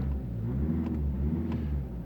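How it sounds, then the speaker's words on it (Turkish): Volkswagen Passat with DSG gearbox idling just after starting, a steady low engine hum with a faint whir, close and unbroken. "Şu anda aracım çalıştı arkadaşlar."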